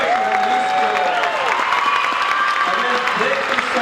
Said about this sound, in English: Another big round of applause for Mariachi